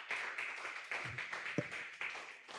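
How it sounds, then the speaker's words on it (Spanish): A church congregation claps briefly after a sermon passage, a short, moderately faint round of applause with uneven hand claps. "Dele un aplauso al Señor por su palabra."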